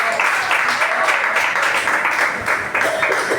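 A church congregation claps together to welcome a speaker, a dense, steady wash of applause that fills the room without a break, with voices faintly mixed in.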